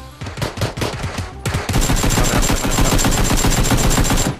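Automatic weapon fire in the PUBG video game, first a few short bursts, then a long sustained stream of rapid shots, loud and close.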